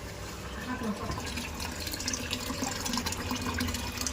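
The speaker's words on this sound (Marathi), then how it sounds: "इकडं पाणी चालली" Water runs steadily from a tap or pipe, a continuous splashing flow with voices murmuring faintly in the background.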